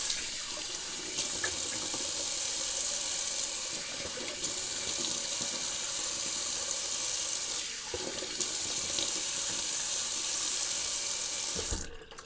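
Cold water runs from a sink tap in a steady, loud rushing stream, close by and unbroken for about twelve seconds with only brief shifts in the flow before it cuts off abruptly at the end.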